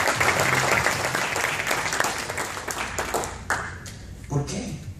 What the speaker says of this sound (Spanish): Un aplauso fuerte para ellos tres.